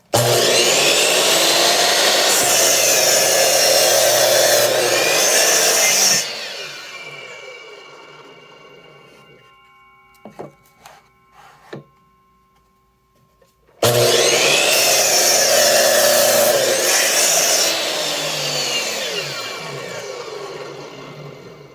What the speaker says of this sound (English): the saw is not big enough to get all the way through the block